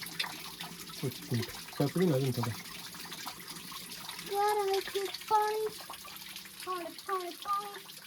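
Cold, clear water runs steadily in a continuous wash on the Ratangad trek beneath voices talking nearby, the flow fairly close and moderate in loudness.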